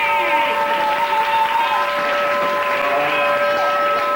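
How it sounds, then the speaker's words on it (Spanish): Applause for Harry the pianist at a Port Aventura saloon show, a steady wash of clapping from a crowd with music tones running underneath, continuous and fairly loud throughout. "¡Un aplauso para él!"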